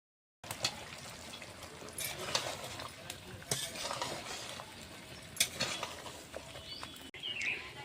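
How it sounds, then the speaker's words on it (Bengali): A spoon scrapes and clacks against a pan while bottle gourd is stirred into cooked meat, with soft sizzling underneath and a few sharper metallic knocks spaced through the stirring. "লাউকে মাংসের সঙ্গে ভালো করে মিক্স করে নিব।"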